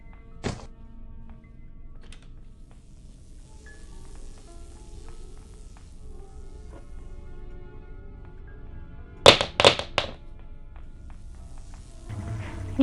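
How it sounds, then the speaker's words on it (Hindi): Wooden blocks knocked over in the Granny video game: a few sharp wooden clatters in a quick burst after a quiet stretch with a single earlier knock, fairly near, no talking. "वुडन ब्लॉक या जो भी ब्लॉक है, उसको गिराते हैं फटाफट"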